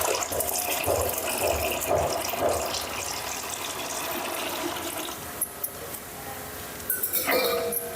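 Water poured into a vessel during handmade herbal medicine preparation: a continuous gushing, splashing flow with a few light clinks of the pot near the end.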